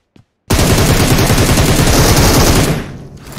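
Sustained burst of MG3 machine gun fire in a video game, loud and close, a rapid continuous rattle lasting about three seconds after a brief click, then cutting off.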